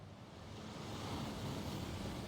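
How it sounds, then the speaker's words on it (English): Steady, faint rushing water roars evenly in Hogwarts Legacy, a waterfall's constant broadband wash with no voices over it. "That waterfall washes away all enchantments."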